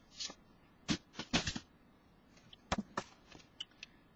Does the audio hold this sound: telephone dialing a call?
no